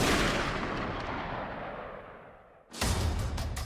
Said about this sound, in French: Un coup de feu donné à bout portant.